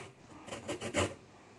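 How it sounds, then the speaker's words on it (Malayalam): A lemon's yellow outer peel is scraped for zest, heard as a few short, soft rasping strokes close by in a quiet kitchen. "ഇപ്പം നമ്മൾ ചെറുനാരങ്ങയുടെ പുറത്തെ ഭാഗം നമ്മൾ ചുരണ്ടി എടുത്തിട്ടുണ്ട്"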